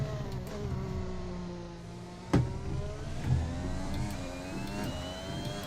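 Honda-powered Formula 1 car engine in the F1 2021 racing game on the Bahrain circuit, a steady high whirring drone with rising and falling pitch sweeps and a couple of sharp shift blips.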